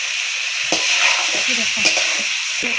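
Mutton and potatoes are stir-fried in a pan, giving a loud, steady sizzle with irregular spatula scrapes and knocks.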